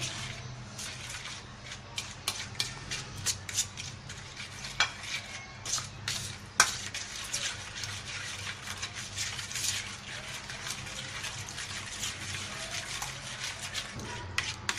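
Dough for chicken buns being stirred together with milk in a bowl, a quiet, continuous scraping and mixing with irregular soft taps and clicks of a utensil, close and steady throughout.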